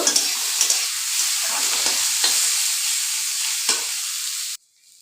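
Onion and garlic fry in oil in a wok after chilies, giving a continuous close hissing sizzle broken by stirring scrapes. The sizzle cuts off abruptly near the end, and no one speaks.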